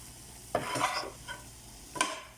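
Cooked chicken pieces for a chicken supreme pizza sizzle in a pan and are stirred with two or three close scraping strokes over a steady frying hiss.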